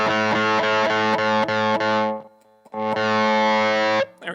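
Guitar played through a distortion effect as the gain is turned up, loud buzzing repeated strums followed by a brief drop to near silence, then a long sustained distorted chord that cuts off.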